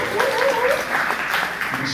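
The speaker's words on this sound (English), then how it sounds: "Clap it up for that." Comedy club audience applauds a stand-up comedian, a moderate burst of clapping mixed with crowd chatter and voices, fairly close and steady.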